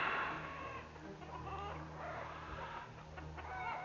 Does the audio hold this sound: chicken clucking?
yes